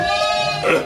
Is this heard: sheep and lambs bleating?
yes